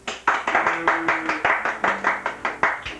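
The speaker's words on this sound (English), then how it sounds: "Everybody clap." A few people in a home clap in a loose, steady rhythm, about a dozen sharp, close claps with brief ringing tails and a faint tonal hum underneath.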